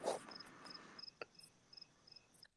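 Crickets chirping in a steady, evenly spaced high pulse, faint and distant, after a brief louder noise at the start.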